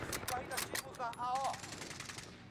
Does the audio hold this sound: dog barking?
no